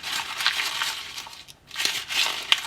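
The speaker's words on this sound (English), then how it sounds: "we're going to get out our brown piece of paper, and we're going to crumple" Brown paper is crumpled by hand, giving close, crackling crinkles in bursts with a brief pause midway.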